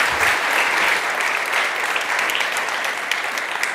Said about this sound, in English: Christine Vallaure, big applause.